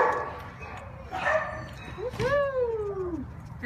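A shelter dog at San Bernardino City Shelter gives a few close, high yelping barks and whines, separate calls rising and falling over a quiet indoor background.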